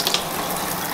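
Tap water running steadily into a sink or tub to fill a puppy's bath, a close, continuous broadband splash with no voices over it.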